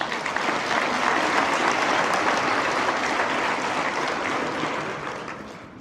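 An audience at the Quebec Agricultural Hall of Fame ceremony applauds the Gold category partners, a full, dense round of clapping that holds steady for several seconds, then gradually tapers off.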